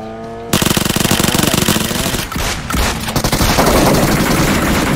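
Loud rapid automatic gunfire bursts in a video game, starting abruptly after a brief quiet moment, dropping out for a fraction of a second, then resuming as dense, continuous fire.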